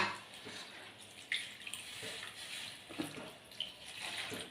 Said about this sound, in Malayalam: ഇനി നമുക്ക് ആവശ്യത്തിനുള്ള വെള്ളം ഒഴിച്ചു കൊടുക്കാം